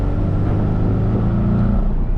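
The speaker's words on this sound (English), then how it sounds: "for a turbocharged motor, there is a noticeable turbo lag right when you step on the accelerator" A 2023 Porsche 718 Boxster with a turbocharged four-cylinder engine accelerates as a steady, loud, close engine drone that holds a near-even pitch with a faint rise, and no voices are heard.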